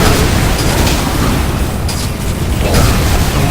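Explosions in a video game, heard as a loud, dense, continuous roar of blasts filling the whole span without talk.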